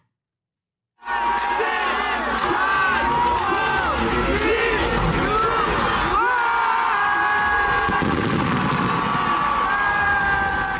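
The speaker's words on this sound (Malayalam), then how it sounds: "പുതുവർഷത്തെ വരവേൽക്കാൻ ഖത്തറിലെ ലുസൈൽ ബോളിവാർഡിലെത്തിയത് റെക്കോർഡ് ജനക്കൂട്ടമാണ്." A huge New Year's crowd at Lusail Boulevard in Qatar cheering and shouting loudly after a second of silence, with whoops, whistles and a dense babble of voices sustained to the end.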